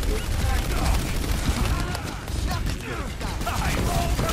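Video game gunfire, rapid bursts and clattering shots that run densely across the whole stretch, loud and busy, with game voices and talk mixed in.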